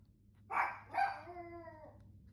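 A dog lets out two quick, loud barks, the second drawing out into a short whining howl that fades, heard alone at close range.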